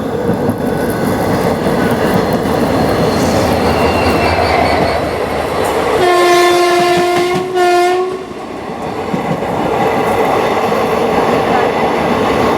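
Onboard the Marathwada Express in India, loud continuous rail rumble and wheel clatter as it crosses the Manmad–Nanded passenger train, with a long, sustained horn blast in the middle.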